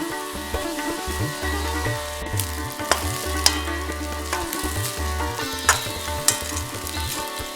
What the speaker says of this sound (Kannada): ಇದನ್ನ ಸರ್ತಿ ಸರಿಯಾಗಿ ಕಲಿಸ್ಬಿಟ್ಟು ನಾವು ಮಾಡಿರುವ ಅನ್ನವನ್ನು ಹಾಕೋಬೇಕು